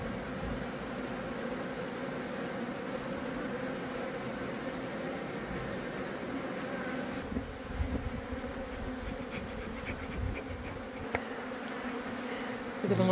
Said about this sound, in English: I was so happy to see all these bees.